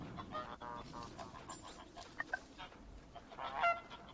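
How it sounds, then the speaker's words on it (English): Geese in the video game Knights and Bikes honk in a few quiet, scattered calls over a soft, busy game background. "How do I feed the geese?"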